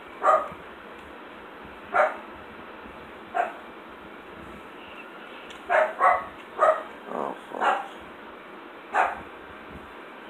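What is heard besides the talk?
dog barking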